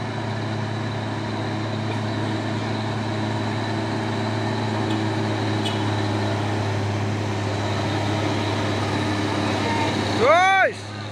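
A deep, steady diesel engine drone from a passing Hino CPO tanker truck goes on for the whole clip, loud and close, and ends in a brief rising whoosh.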